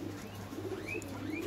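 Pigeons of a long-faced Madrasi breed coo softly, with faint chirps over a steady low hum of background noise.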